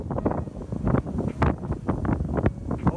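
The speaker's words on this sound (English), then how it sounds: "The wind really picked up." Strong wind gusting across an open golf course and buffeting the microphone, a loud continuous rumbling roar that swells and falls throughout.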